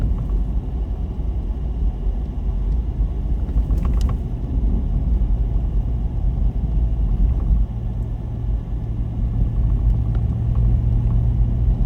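Steady low engine rumble from a motorcycle cruising along scenic Highway 28 near Fontana Lake and the dam in North Carolina, continuous and close with constant wind-like broadband noise throughout.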